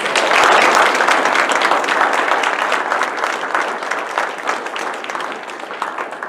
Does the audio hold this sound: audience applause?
yes